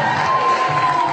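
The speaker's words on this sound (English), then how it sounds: "Hundreds cheered as she walked the red carpet." A large crowd of hundreds cheering outdoors as a young girl walks a red carpet at her birthday ball, a steady, loud wash of voices and shouts.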